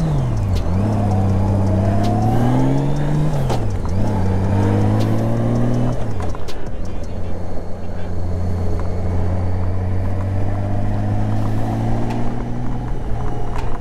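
Steady engine drone of a Honda Goldwing GL1800 motorcycle on a test ride, a smooth continuous hum that rises and dips with throttle over heavy wind rush, close and loud throughout.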